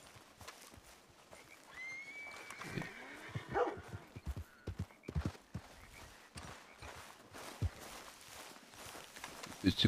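Hoofed animals plod and shuffle through a video game scene, irregular footstep thuds with occasional animal calls, fairly near and moderately loud, with no talking.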